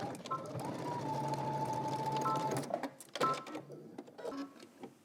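Sewing machine stitching a 5/8-inch seam on a Simplicity S9893 garment, a steady mechanical whir for about three seconds that cuts off, followed by scattered handling clicks and rustles.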